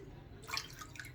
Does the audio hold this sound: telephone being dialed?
no